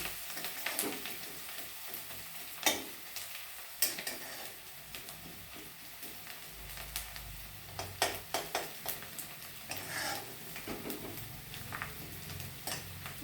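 Coriander leaves fry in a spiced oil tempering for a Marathi tomato curry, a faint steady sizzle broken by frequent sharp spoon taps and scrapes as the pan is stirred.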